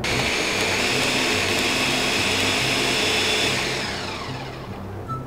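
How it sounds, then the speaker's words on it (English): A kitchen blender runs with a loud, steady whirring drone and a pulsing low motor hum, holding constant before easing off slightly near the end, with no talk over it. "Just having a hard time with that blender."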